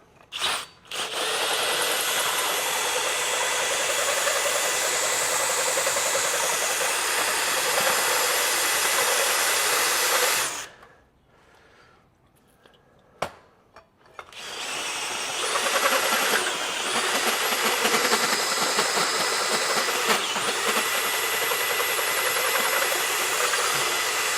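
A power drill grinds loudly and steadily as a Hercules bimetal hole saw from Harbor Freight cuts, stops briefly, then starts up again and keeps cutting close by.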